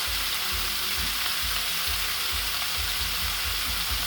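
Steak sizzling loudly and steadily in a frying pan as it is flipped, with close continuous crackle over a low rhythmic thumping underneath and no voices.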